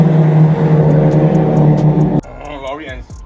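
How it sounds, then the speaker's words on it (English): A Honda Civic FL5 fitted with a Tomei RSE exhaust and silencer holds a loud, steady, deep droning exhaust note close by, which cuts off abruptly and gives way to someone talking. "Keeps the exhaust note just nice"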